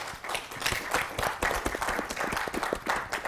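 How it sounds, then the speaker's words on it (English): Audience at a Kenyan book launch applauds Dennis and his panel, giving steady, moderately loud clapping from a roomful of people, with sharp individual claps over a continuous patter. "I'd like us to give a round of applause to Dennis and his panel."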